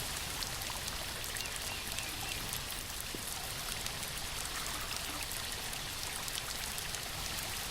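A steady broadband rush of falling water, like a waterfall heard from a moderate distance, holds constant with no voices or other events.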